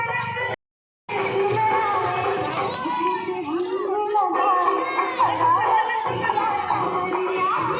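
Crowd chatter fills a busy Holi gathering in Nandgaon, with many overlapping voices and children nearby, close and continuous apart from a brief dropout near the start.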